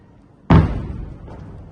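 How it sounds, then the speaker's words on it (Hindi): A single loud, sudden boom from an air-defense missile interception in the night sky, a sharp deep blast that rolls off into a decaying rumble over about a second. "जोरदार धमाके हो रहे हैं इस वक्त"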